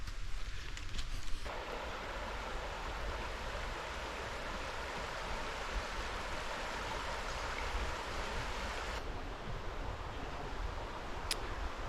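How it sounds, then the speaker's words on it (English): The River South Esk flowing past Dalhousie Woods gives a steady, soft broadband rush of moving water that holds constant throughout, faint and unbroken, with no voices over it. "Well, we're down by the river, as you can see behind me."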